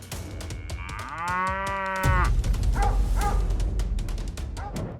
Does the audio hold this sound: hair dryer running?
no